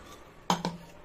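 A metal spoon clinks twice against a bowl while spices are stirred into a sweet jujube pickle, two quick bright knocks in the middle of an otherwise quiet moment.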